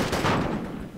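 Dense gunfire in the military shooter Project Reality, a continuous burst of shots filling the whole second, loud and close with no break.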